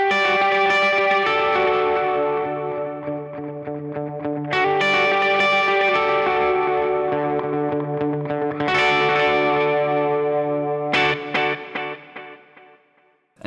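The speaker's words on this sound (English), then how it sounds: "I would just bring up the echo level" Electric guitar played through a studio pedalboard with the delay's echo level turned up: ringing chords that swell and smear into long repeating echo trails, struck afresh every few seconds, with no voice.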